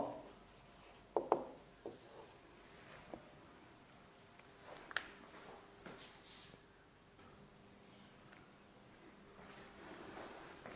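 Chalk or marker writing on a board during a physics lesson: scattered faint scratches and several sharp taps at irregular intervals in a quiet room, with no speech.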